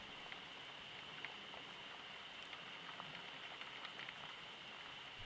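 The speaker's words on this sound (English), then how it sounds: "The sound of the rain beginning on the window to this room." Rain pattering steadily on a bedroom window as a storm draws closer, a soft continuous patter with scattered brighter drops, quiet and close with no voices.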